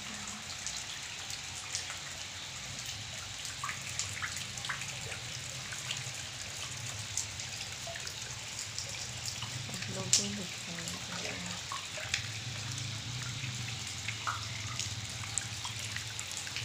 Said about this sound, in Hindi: ये छोटा मोटा बाढ़ है